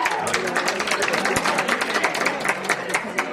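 An audience at a school art club event applauds after an energetic performance. Dense, continuous clapping with some crowd noise mixed in carries on at a steady level.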